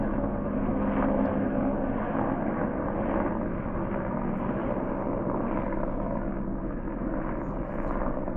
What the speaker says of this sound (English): Someone's going on a scenic flight